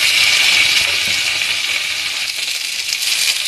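Vegetables hit hot oil with reddish-fried potatoes in a pan, producing a loud, steady, hissing sizzle that fades slightly toward the end, with no talking.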